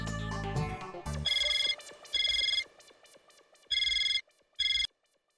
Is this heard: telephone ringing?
yes